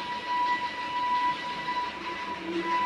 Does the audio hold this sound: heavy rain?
no